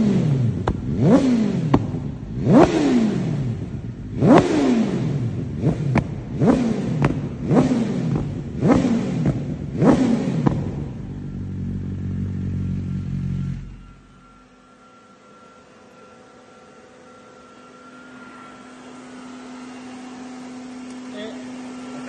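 A motorcycle fitted with an aftermarket exhaust revs hard about eight times in quick succession, each blip rising and falling sharply, then settles into a low idle and goes quiet.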